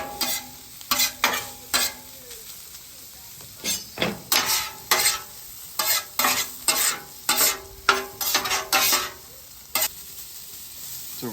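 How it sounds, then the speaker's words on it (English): Chorizo and hash browns fry in a pan while a utensil stirs them, a string of irregular scraping, clicking strokes over a faint, steady sizzle, close and fairly quiet. "cook the chorizo completely and then add the hash browns, mix it up, and then cook it like a patty."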